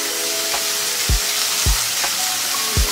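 A spoon works through a thick sauce of mayonnaise and Kashmiri red chili powder, giving a few soft, evenly spaced low thuds over a steady, faint hiss, with no voices.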